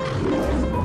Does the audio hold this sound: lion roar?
yes